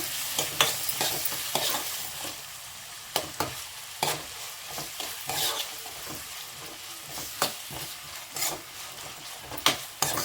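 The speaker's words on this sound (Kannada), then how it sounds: "ನಾನು ಚಿಕ್ಕದಾಗಿ ಹೆಚ್ಚಿಟ್ಕೊಂಡಿರೋ ಈರುಳ್ಳಿ ಸೇರಿಸ್ಕೊತಾ ಇದ್ದೀನಿ" Finely chopped medium onions fry in a pan, a continuous close sizzle broken by a utensil's stirring scrapes and knocks at irregular intervals, with no talking.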